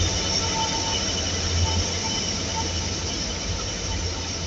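A train at a station in Houston hums steadily at low volume, a continuous rumble of rail cars with faint mechanical whine, no voices.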